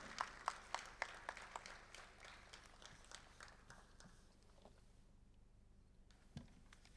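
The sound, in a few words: audience applause at poetry event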